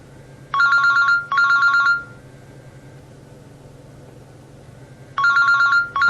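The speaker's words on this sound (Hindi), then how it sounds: "तुम्हारा फोन आ रहा है" A telephone rings loudly in repeated double trills, then a pause before the ringing returns, with a faint hum beneath and no talking.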